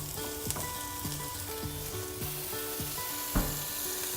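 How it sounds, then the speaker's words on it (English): Garlic and onions sautéing in a pan for huevos rancheros, a steady close sizzle and crackle of frying with a few sharper pops and occasional stirring scrapes, no talk. "there is nothing nicer than the smell of garlic and onions sauteing"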